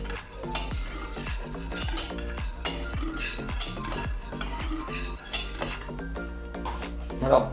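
A spoon sweeps in figure-eights through custard-like crème anglaise in a pan on the heat, making repeated close clinks and scrapes against the metal in a steady rhythm while someone talks.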